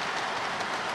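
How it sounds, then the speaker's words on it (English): A model train rolls across a bridge on a model railway river scene, giving a steady close rumbling clatter that holds for about a second without a break. "Looks like the train's gonna make it across successfully."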